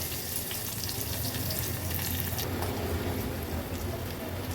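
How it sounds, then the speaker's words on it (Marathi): Dense, steady sizzle of a spice tempering frying in hot ghee, heard up close with a crackling hiss that shifts slightly partway through. "आपल्याला फोडणी व्यवस्थित आपल्याला अशी परतून घ्यायची आहे तुपावर."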